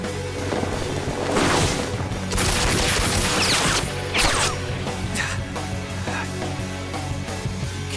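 Dense gunfire and crashing bursts fill a battle in the tactical video game Persona 5 Tactica, with loud overlapping impacts and explosions over a continuous busy music and effects bed, and no pauses.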